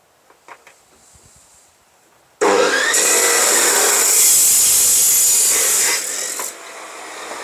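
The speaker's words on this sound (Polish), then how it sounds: "Zwykła piła, taka tarczowa, z tarczą do metalu." A circular saw fitted with a metal-cutting disc cuts through a metal profile, a loud harsh continuous grinding rasp that starts abruptly after a few light knocks, holds steady for several seconds, then tapers to a lower whine.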